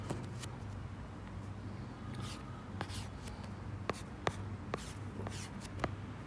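A pen scratches across paper while a lens diagram for a compound microscope is drawn, steady rubbing strokes punctuated by several short sharp taps, close and fairly quiet, with no talking.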